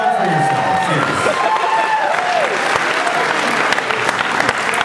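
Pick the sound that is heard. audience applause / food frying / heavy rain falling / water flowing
audience applause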